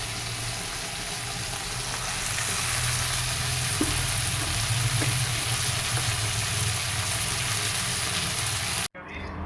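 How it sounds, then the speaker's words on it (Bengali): Prawns frying with dried chilli, onion and red amaranth greens, a constant close sizzle with a couple of faint utensil taps, cutting off abruptly near the end. "শুকনো লঙ্কা পেঁয়াজ ফোড়ন দিয়েছি আর তার মধ্যে চিংড়ি মাছটাও দিয়ে দিয়েছি দিয়ে একসঙ্গে ভেজে নিচ্ছি"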